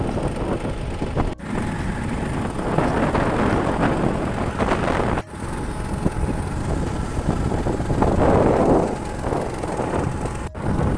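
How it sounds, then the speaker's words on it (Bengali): Steady, loud wind rushes over the Saptamukhi river during a boat ride, a continuous broadband roar with slight gusting swells and no voices, lasting the whole stretch. "আর নদীর যা হাওয়া, হাওয়াতে যেন ঘুম এসে যাচ্ছে।"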